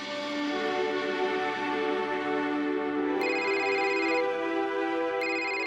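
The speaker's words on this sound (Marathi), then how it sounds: "बघ बघ फोन कोणाचा आहे?" A phone ringtone plays steadily with bright sustained tones, shifting pitch partway through, and no one speaks over it.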